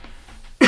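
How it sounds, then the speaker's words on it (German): A single short, sharp cough bursts out near the end after a stretch of quiet room tone, close and fairly loud. "Ich entschuldige mich für meinen Husten zwischendurch"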